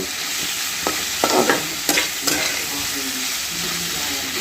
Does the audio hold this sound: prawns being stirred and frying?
yes